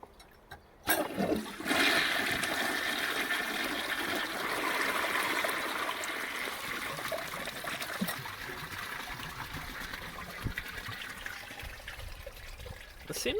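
A cracked 1957 Peerless forward-trap trailer toilet flushes up close, a sudden rush of water that pours and churns steadily for several seconds before trickling down.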